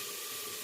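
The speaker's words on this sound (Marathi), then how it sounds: "मसाले परतून घ्यायचा" Red chilli powder and curry masala being sautéed in a pan for a village chicken curry, a faint, steady frying hiss with a light stir at the very end.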